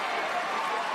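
A Spanish crowd at a wheelchair tennis match claps and cheers in a dense, steady wash of applause, with voices mixed in throughout.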